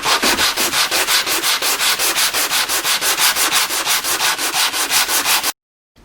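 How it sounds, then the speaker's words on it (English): Rhythmic sanding of a wooden Telecaster guitar body with 180 grit sandpaper, quick back-and-forth strokes repeating loudly and close, then stopping abruptly. "I'm moving on to sandpaper now, and I'm going to be using 180 grit"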